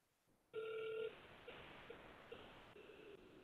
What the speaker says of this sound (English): We're going to call Josh.